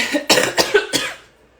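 A few sharp coughs in quick succession, close and fairly loud, then fading into quiet.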